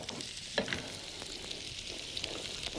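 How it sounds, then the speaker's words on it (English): Soft, steady sizzling of peppers and mushrooms frying in a pan, with a few faint clinks and stirring sounds, fairly quiet and without talk. "Hear the sizzle there"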